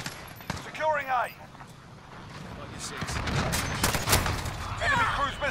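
Call of Duty Modern Warfare hardcore multiplayer on the Shipment map, with a rattle of distant gunfire and explosions building in the second half under in-game radio voices.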